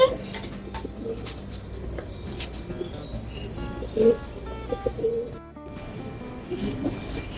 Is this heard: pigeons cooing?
yes